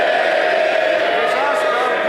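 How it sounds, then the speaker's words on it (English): MPs in the House of Commons chamber cheer and call out together, a loud, sustained crowd roar with no breaks. "They'll not be cheering in a moment, Mr. Speaker"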